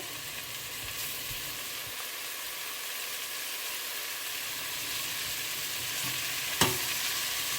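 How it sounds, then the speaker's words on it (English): Jumbo shrimp fry in melted butter with a dense, even hiss that fills the whole clip, broken by one brief clatter near the end, heard close with no talking. "Now that the butter is melted, I'm going to go ahead and add my shrimp."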